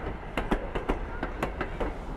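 A Strasburg Railroad train rolls past, its wheels beating a steady, rhythmic clickety-clack over rail joints, close and fairly loud, evenly spaced clacks repeating throughout.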